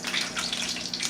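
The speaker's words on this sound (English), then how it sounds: "It's the grapeseed oil going in the wok." Grapeseed oil, about three tablespoons, going into a hot wok for seafood fried rice gives a steady, moderately quiet hiss and gush that holds evenly throughout with no voices.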